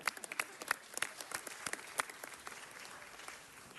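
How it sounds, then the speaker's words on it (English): Scattered, fairly quiet clapping from a city council meeting audience applauding the mayor, individual claps distinct at first and then thinning out toward the end. "let's give the mayor another round of applause"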